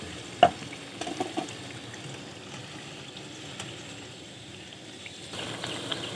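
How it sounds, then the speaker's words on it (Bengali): Soft, continuous sizzle of gaja sweets frying in oil, fairly faint and steady, with a sharp clink near the start and a few small knocks from stirring, without any talk. "গজাগুলোকে এরপর একইভাবে আমরা ভেজে নেব।"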